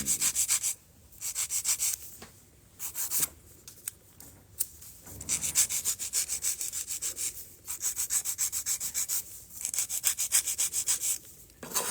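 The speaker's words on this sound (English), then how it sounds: "while I'm filing" Rapid rhythmic rasping of a file on an acrylic nail during nail art, coming in repeated bursts of quick strokes separated by short pauses, close and steady.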